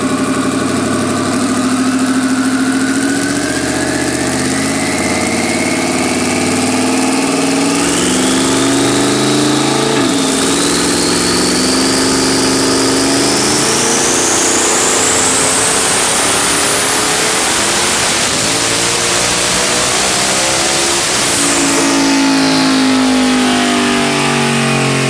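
A heavily modified twin-turbo Ford Coyote V8 Mustang with twin 6870 turbos and an On3 kit, seen at Small Tire Harvest, loudly idles, then revs up in long rising sweeps that climb steeply before dropping back.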